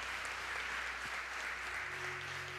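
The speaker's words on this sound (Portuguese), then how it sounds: "Dê uma salva de palmas a Deus." Applause fills a church service, a steady dense clapping from the congregation that holds evenly throughout with no voices over it.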